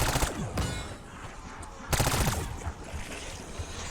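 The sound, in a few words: submachine gun firing in a Call of Duty Zombies video game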